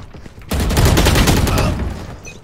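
Rapid automatic gunfire sprays in the online shooter Valorant, a dense, loud burst of shots starting abruptly and continuing for about two seconds before tapering off.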